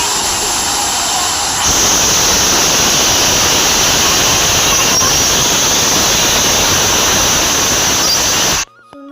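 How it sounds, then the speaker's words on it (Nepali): Rushing water at Parshuram Kund in Arunachal, a loud continuous roar of fast-flowing river water that cuts off abruptly at the end. "अनि यता तल चाहिँ पानीको आवाज कस्तो गर्छ"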